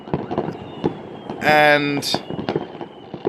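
New Year's Eve fireworks over a Russian town seen from a balcony: scattered sharp bangs and crackles at a distance, with a brief loud whistling burst midway and a voice speaking over it.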